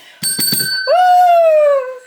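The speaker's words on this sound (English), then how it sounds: "I get to ding my bell for the very first time" A bicycle-style bell is dinged indoors in a jewelry studio: a few quick taps at first, then one loud, clear strike whose bright tone rings on and slowly decays for about a second.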